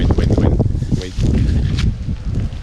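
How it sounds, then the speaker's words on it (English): Wind buffets a microphone outdoors in Amed, Bali, producing loud, low, uneven rumbling gusts that briefly drop out midway. "Oh, wind."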